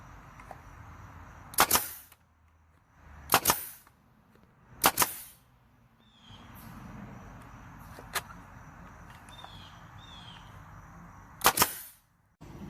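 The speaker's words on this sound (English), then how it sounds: "shoot you a few brads in there also" A brad nailer fires brads into scrap lumber for a mountain wall decor piece, giving five sharp, loud snaps spaced a second or more apart, with quieter handling noise between them.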